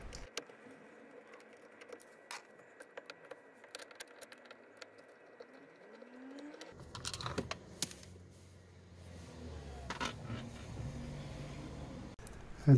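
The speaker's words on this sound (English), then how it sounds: "undo the two torque screws here in red" Small Torx screws being undone on the side lights lever of a Renault Twingo MK1, heard as faint scattered metallic ticks and clicks, followed by louder rattling and handling of the loosened parts.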